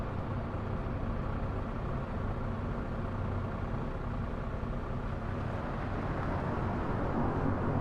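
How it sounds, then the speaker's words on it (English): A bus in a simulator video game gives off a steady engine drone with a constant low rattling vibration of windows and fittings, unbroken and even throughout. "the bus rattling, right, for the windows and stuff"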